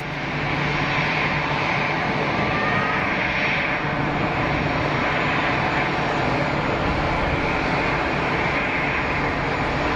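EasyJet Airbus A320 landing over the runway threshold at Geneva, a loud continuous jet engine roar that stays strong and near for the whole stretch, with no voices over it.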